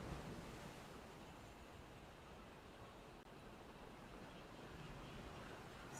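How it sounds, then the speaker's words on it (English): Ocean waves and surf along a coast where African penguins live, a steady broadband wash of breaking water with a faint, even roar throughout and no talk. "the sound of that ocean is just super therapeutic right now"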